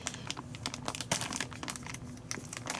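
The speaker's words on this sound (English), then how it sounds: "Brittany opened this bag the last time" A plastic snack bag being handled, giving dense, continuous crinkling with sharper crackles, close and fairly loud, no voices.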